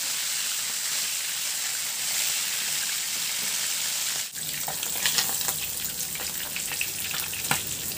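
Meat browning in oil in a pan gives a steady hiss of frying, and a sharp clack halfway through is followed by louder, uneven crackles and pops.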